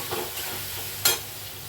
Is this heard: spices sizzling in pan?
yes